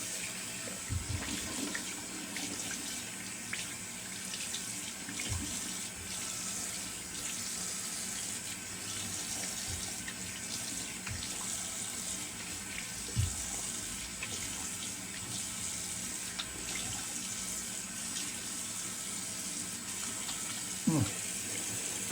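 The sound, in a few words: cold water running from a tap into a sink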